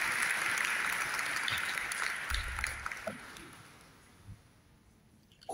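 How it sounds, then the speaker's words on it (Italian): An audience applauds at the BIF&ST 2023 film festival event, a dense wash of clapping that starts full and gradually thins out and fades over several seconds. "si merita un applauso."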